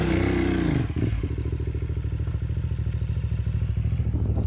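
KTM Adventure Rallye motorcycle climbing a hill in Tasmania, its engine loud and close with a rapid pulsing beat, the throttle easing and then picking up again as the clutch is slipped.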